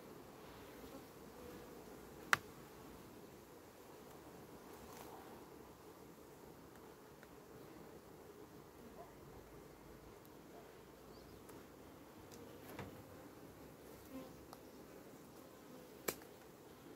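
Honey bees hum inside an insulated hive on a warm day, a soft continuous buzz close by with a few faint sharp clicks.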